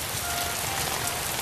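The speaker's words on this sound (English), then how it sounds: "It is now raining." Rain from a weather machine in a Postman Pat scene pours as a steady, dense hiss of falling drops, brief and continuous with no talk over it.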